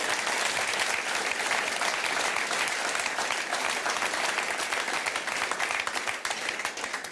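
A cabaret audience breaks into loud, dense applause, sustained clapping from a crowd close up and steady throughout, easing only slightly near the end.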